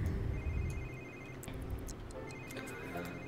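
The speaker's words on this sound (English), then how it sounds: "Oh my god, this freaking phone." A telephone rings in The Sims 3 Generations, a steady repeating ring tone running throughout against busy game background sound and music.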